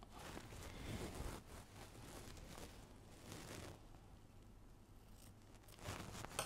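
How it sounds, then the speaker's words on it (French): Scissors snip through excess ribbon wrapped around a chocolate Easter bell, making a series of close, crisp cutting bursts with short pauses between them, alone without talk. "on vient couper donc le ruban qui est en trop"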